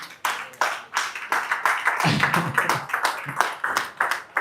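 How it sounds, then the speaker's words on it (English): An audience at a live wellness event claps together in a loud, close burst of applause, individual hand claps clearly distinct and sustained for several seconds. "Let's clap for the MC as he comes here."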